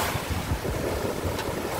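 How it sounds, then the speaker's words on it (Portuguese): Strong wind buffets the microphone while waves wash onto the sand at Barra da Tijuca beach in Rio de Janeiro, a continuous rushing noise close up with no voices. "Só tá botando um pouco de frio por causa do vento, né? Tá ventando bastante."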